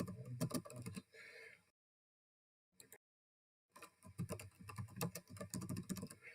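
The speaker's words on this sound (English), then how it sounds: "let me just type something" Close-up typing on a computer keyboard: quick bursts of sharp clicks, a lull of silence, a brief tap, then another busy stretch of keystrokes.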